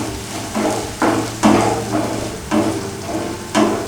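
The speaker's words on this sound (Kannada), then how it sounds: "ಟೊಮೆಟೊ ಹಣ್ಣನ್ನು ಹಾಕಿದ ತಕ್ಷಣ ಒಂದು ಸರ್ತಿ ಚೆನ್ನಾಗಿ ಮಿಕ್ಸ್ ಮಾಡ್ಕೊಳ್ಳಿ." Chopped onion and tomato frying in a pan for egg kheema masala, stirred with a spoon. Rhythmic scraping strokes come about every half second to second over a low, steady sizzle, close and clear.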